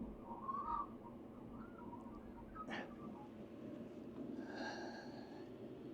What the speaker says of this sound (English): Noisy magpie. There's a whole bunch of them. Warbling.